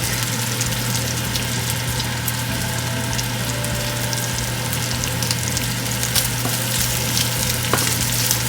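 Onion and garlic frying in a pan for pork and liver adobo, a steady loud broadband sizzle that continues without a break, close up with no speech.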